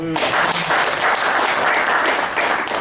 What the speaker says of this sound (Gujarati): આમના ઓનેસ્ટ અભિપ્રાય માટે જોરદાર તાળીઓ